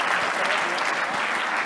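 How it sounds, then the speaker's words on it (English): A forum audience claps in a steady dense wash, honoring a longtime attendee, loud and continuous across the short stretch with no pauses. "let's give a round of applause for that"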